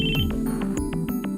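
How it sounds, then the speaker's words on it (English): In the Chaos;Head Noah visual novel, a phone ringtone plays as a regular, evenly spaced electronic trill over a steady layer of game background music, with no voices. "A sudden ringing on my phone startled me."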